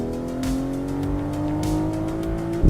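A 2005 BMW E46 engine in a driving simulator hums steadily as revs climb in a smooth rising tone, loud and close, ending with a brief thump.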